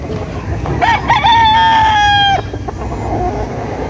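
A lemon-breed gamefowl rooster lets out a single loud, close crow lasting over a second, set against steady farmyard background noise.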